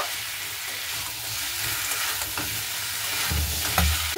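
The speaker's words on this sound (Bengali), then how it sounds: "আগে আমি আলু আর ফুলকপিটাকে খুব ভালো মতো করে কষিয়ে নেব" Potato and cauliflower pieces being stir-fried in a pan for a cauliflower and egg dish, giving a steady close sizzle with scraping stirring strokes that grow slightly louder toward the end.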